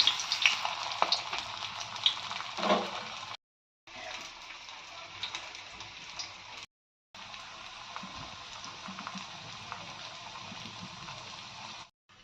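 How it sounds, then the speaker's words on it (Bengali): Meat-stuffed snacks frying in hot oil, a steady close crackling sizzle with faint stirring, broken by two short silent gaps. "তেল আমাদের গরম হয়ে গেছে, এবার একে একে আমরা এগুলোকে তেলের উপরে দিয়ে দিচ্ছি।"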